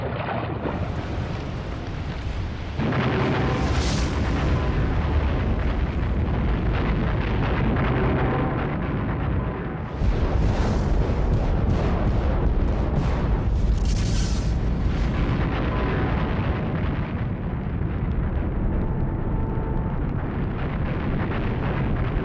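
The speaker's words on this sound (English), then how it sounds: "The blast of a super eruption would be awesome enough" A super volcano eruption blast renders as a continuous, heavy roar with deep rumbling, sustained and loud throughout, with surging gusts rising and falling over it.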